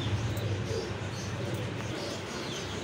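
Low, throaty cooing of a Teddy pigeon repeats in a steady rolling rhythm, close and fairly loud, with faint chirps from other birds in the background.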